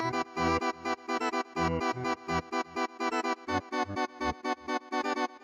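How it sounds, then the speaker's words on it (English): A single one-shot sample in an Ableton sampler retriggered by MIDI in quick succession, playing a bright, distorted melodic line of short rhythmic notes. "what you're hearing is literally this one-shot sound playing all of these notes."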